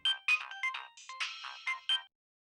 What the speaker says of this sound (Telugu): ఈ అమ్మాయి ఫోన్ చేస్తుంది,